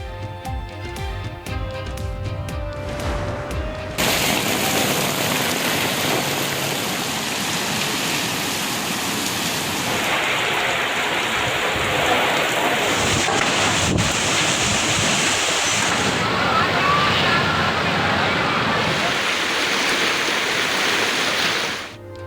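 Heavy rainfall in Karachi, a dense, loud, continuous wash of rain with gusty wind rumble across the microphone, with no voices.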